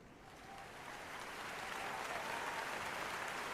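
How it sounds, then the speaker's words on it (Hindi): Audience applause from college youth at a talk, rising from a softer start into a steady, full wash of many hands clapping, heard from within the room with no talk over it. "ताली बजाओ अपने लिए।"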